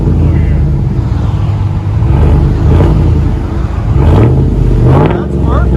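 A 2017 Chevy Silverado HD 2500 with a 6.0 engine and Dynomax Race Bullets exhaust rumbles loudly up close, swelling through a few revs, while people talk over it.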